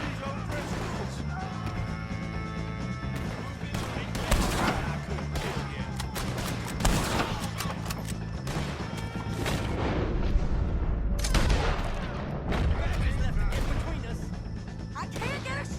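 Chaotic Red Dead Redemption 2 shootout against the O'Driscoll gang, with repeated loud gunshots and heavy booming impacts scattered through a busy mix under frequent shouted dialogue.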